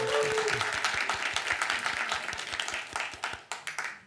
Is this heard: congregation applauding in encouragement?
yes